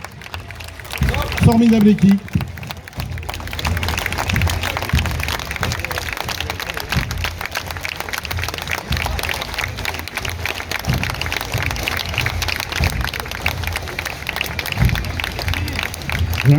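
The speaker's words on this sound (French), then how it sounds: "On peut les applaudir." A crowd applauding at an outdoor military parade in Souchez, a steady wash of clapping and crowd noise running throughout, with a voice talking over it early on.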